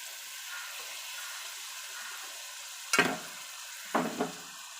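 A steady sizzle runs throughout as tomatoes and onions sauté with ginger garlic paste in a pan, broken by two sharp louder scraping stirs near the end; no one speaks.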